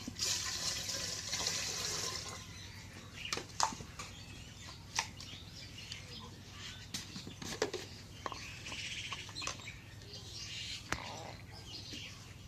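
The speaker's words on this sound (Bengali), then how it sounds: "এখন পানি দেই।" Water poured into a cooking pot set on a stove for a carrot and sun-dried rice halwa, a steady running splash lasting about two seconds, then quieter handling noises and faint clinks under a low background hum.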